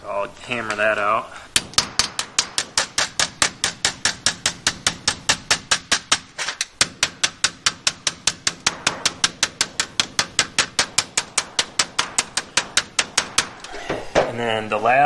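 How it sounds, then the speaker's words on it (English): Rapid, steady metallic hammer blows ring out on a sheet metal duct, dozens of sharp strikes in an even rhythm, with brief speech before and after. "So I'll hammer that out."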